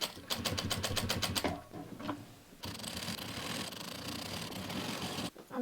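Sewing machine stitching upholstery fabric for a footstool, rapid rhythmic needle chatter in a short burst, a pause, then a longer steady run of stitching close up, with no talking.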